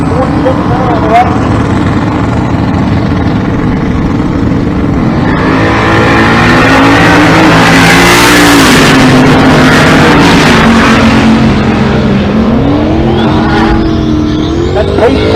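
A Fox-body Ford Mustang drag car launching at a drag strip, its engine roaring loud and close and climbing in pitch as it pulls away, with the sound swelling to a peak midway before easing; an announcer talks over it.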